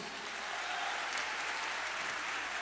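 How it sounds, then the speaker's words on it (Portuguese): Church audience applauding, a dense, steady wash of many hands clapping at moderate distance, fairly quiet and continuous without a break. "você pode aplaudir Jesus mais forte?"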